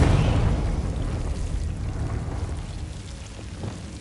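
Confringo fire spell explosion in Hogwarts Legacy: a loud burst at the onset that fades into a crackling, rain-like rumble over several seconds, with no talking.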